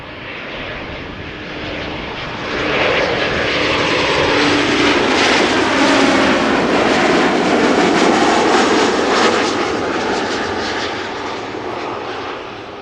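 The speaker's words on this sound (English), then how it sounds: "There is the Dakota. I thought I heard it." A DC-3 Dakota propeller airplane arrives at Amsterdam Schiphol airport, its loud piston engine drone swelling as it passes close by, then easing slightly, with no voices.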